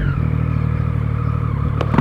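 A motorcycle engine idles close by at a café gathering, a steady low rumble that stays loud and even, with a brief clatter near the end.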